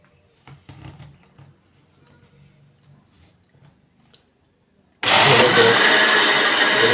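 Quiet faint knocking and handling, then a blender abruptly roars to life blending orange and carrot juice, running loud and steady, whirring continuously until the end.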